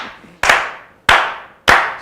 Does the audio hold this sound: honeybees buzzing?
no